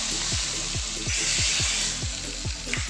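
Hot tempering of dried chillies in oil poured into a ripe mango curry, a loud burst of sizzling and crackling with rapid bubbling pops that carries on steadily throughout.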